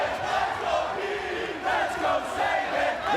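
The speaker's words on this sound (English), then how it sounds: "Listen to the crowd." Wrestling crowd at an X Division title match cheering and chanting steadily, a dense, loud wall of voices with rhythmic chant swells throughout.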